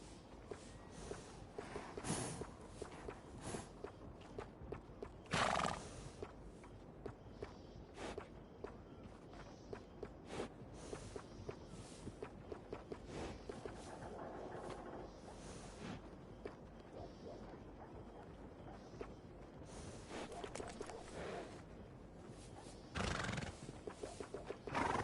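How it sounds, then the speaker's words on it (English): In Red Dead Redemption 2, a horse being groomed whinnies loudly a few times and snorts, its hooves clip-clopping and shuffling close by in between. "Yeah, grooming a horse sure makes it a beaut."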